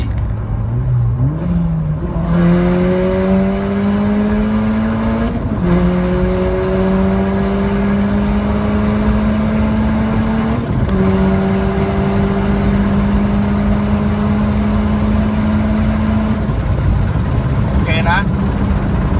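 Turbocharged car accelerating hard on an empty road, loud engine pulling through several gears with rising pitch sweeps and short shift breaks, a faint turbo whistle near the end, with talk over it.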